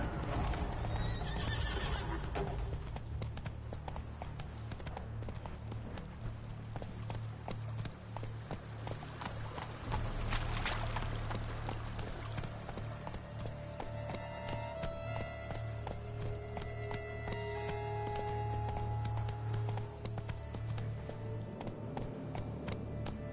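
Roach, a horse in The Witcher 3: Blood and Wine, gallops with steady rapid hoofbeats and whinnies loudly, with game music and ambience running underneath throughout.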